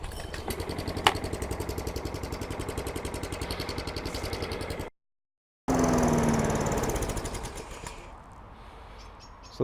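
A petrol lawn mower cuts a garden lawn with a loud, steady, rattling engine drone close by, broken by a brief gap, then resumes with a rougher tone before fading.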